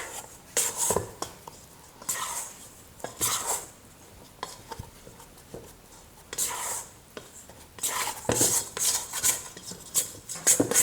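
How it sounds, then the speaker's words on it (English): A bench scraper chops and mixes a stiff dough pre-ferment for Southern-style mantou, giving close, repeated dull taps and scrapes in irregular bursts against a bowl or board, with no talk. "The pre-ferment is quite stiff, so I'm really just chopping into it with my scraper"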